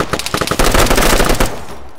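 Rapid automatic gunfire rattles through a video game firefight, a loud, close string of quick shots lasting about a second and a half before cutting off.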